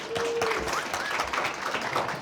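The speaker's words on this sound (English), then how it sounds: "Let's give Katie a big round of applause, please." Brief applause from an audience at a public-good advertising and marketing panel, faint and steady throughout, with a hint of voices beneath.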